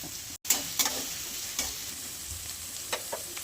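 Carrots stir-fried in a pan for spicy Schezwan fried rice, with a steady close sizzle and several sharp scraping stirs of the spatula spread across the few seconds.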